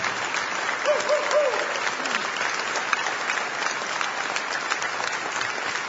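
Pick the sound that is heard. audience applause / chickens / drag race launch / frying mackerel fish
audience applause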